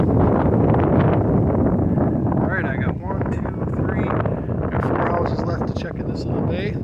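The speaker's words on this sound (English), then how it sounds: "The wind is picking up" Strong gusts roar across an open outdoor bay on a trapline check, a loud, steady, buffeting rush battering the microphone, with someone talking beneath it.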